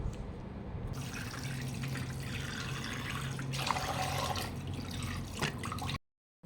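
Water runs from a tap and splashes while a face is washed at a sink, a steady close rush with shifting splashes that cuts off abruptly near the end.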